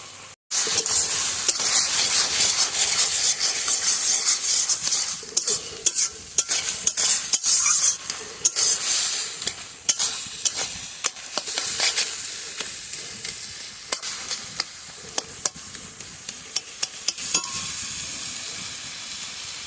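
Dried fish curry fries hard in a pan, a loud, continuous sizzle and steamy hiss broken by repeated scraping and clattering strokes of a spatula as it is stirred over and over.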